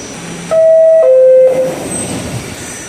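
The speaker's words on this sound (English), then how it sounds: "It's such an iconic door chime." A loud two-tone door chime on an R44 subway car sounds, a higher note dropping to a lower one, over the steady rumble of the train interior.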